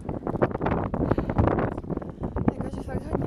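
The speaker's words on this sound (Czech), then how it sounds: "Strašně vidro, strašně to fouká" Gusty wind buffets the microphone in a loud, continuous roar, with people talking over it.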